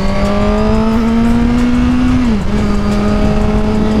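A 2018 Suzuki GSX-R1000 motorcycle riding on a highway: a loud, steady engine drone at cruising speed with a brief dip in pitch midway, heavy wind rush throughout, no talking.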